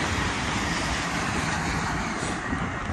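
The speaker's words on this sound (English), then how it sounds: "oh, there's a train going past." A train rolls past outdoors, making a continuous broadband rumble and rushing noise that stays loud and steady throughout, with no talking over it.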